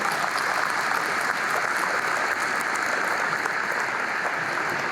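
Applause from a large conference audience at a business aviation convention fills the space, steady and dense throughout without a break, with no voices rising above it.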